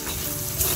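Curry leaves hitting hot oil in a village-style mushroom stir-fry give a brief, dense, hissing sizzle that stays steady and close.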